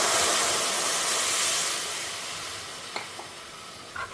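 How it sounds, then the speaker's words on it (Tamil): Sambar powder and turmeric sizzling in hot oil in a home kitchen, a loud steady frying hiss that slowly eases, with a few light clinks of a spoon near the end. "இந்த மாதிரி நீங்கள் சாம்பார் பொடி, மஞ்சள் பொடி எல்லாத்தையுமே எண்ணெயில் பொரிச்சிட்டு"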